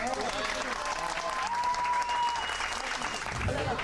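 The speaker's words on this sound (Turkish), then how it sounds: "Kocaman alkış Taşkın Bey'e bir tane de." Group applause at a Ramadan iftar dinner gathering of a TV morning show crew, steady clapping mixed with chatter and voices throughout.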